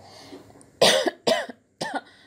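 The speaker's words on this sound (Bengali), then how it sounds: "কাশিটা আসে মাঝে মাঝে" Three sharp coughs in quick succession, close and loud, with short pauses between them and faint background hum before the first.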